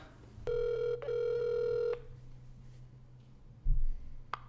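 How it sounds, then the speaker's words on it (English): A landline telephone rings twice in bright, clear bursts for an incoming call, alone in a quiet room with a low steady hum underneath and a brief thump afterward. "let's get to the next phone call"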